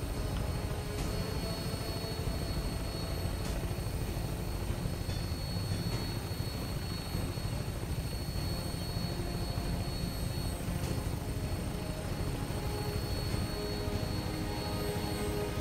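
An airplane in the video game Commonwealth of Decay, with a steady, loud engine roar that stays constant throughout and has no talking over it.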